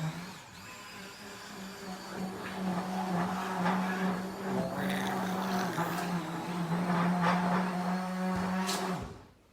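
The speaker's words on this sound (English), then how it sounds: "we need this type of blender, like arm blender" An electric arm blender whirs steadily through Basque burnt cheesecake batter, a sustained motorized drone lasting around nine seconds with faint voices in the background, then cutting off at the end.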